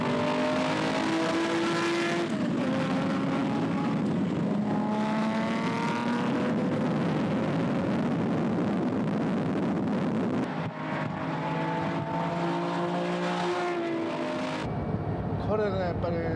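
A Nissan Fairlady Z 30Z with a 3.2-litre engine making 360 horsepower, driven hard on a winding road, roars loudly and close as its revs climb repeatedly through successive gear changes, with talk over it.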